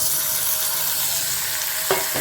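Steady, close sizzling of onions frying in a pan, a continuous hiss with a brief scrape of stirring near the end.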